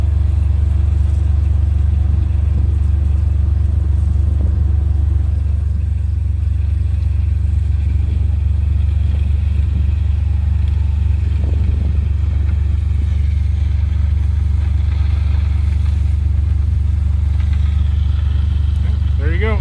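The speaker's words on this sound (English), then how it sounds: "I don't know about this red tractor running on our fields." A red tractor engine runs steadily in a farm field while litter fertilizer is spread, a loud continuous low rumble and drone that holds for the whole stretch with slight variations in tone.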